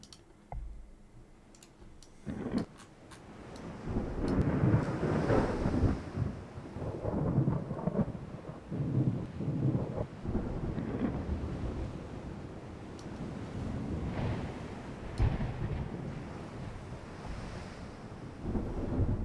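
A thunderstorm at sea in a naval warship game, with rolling thunder cracks over steady rain, wind and surging waves, loud and continuous without voices.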